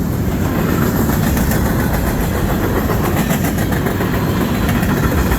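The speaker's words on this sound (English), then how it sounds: "DPU coming up." CN freight train rolling past close by with a DPU locomotive in the consist, a loud continuous roar of engine rumble and wheel clatter that stays steady throughout.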